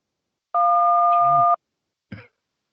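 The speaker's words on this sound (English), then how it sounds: "This is what happens when we connect the phone lines." Phone line connection noise on a call-in radio show: a steady two-tone electronic beep holds for about a second, then a short rough crackle follows after a pause.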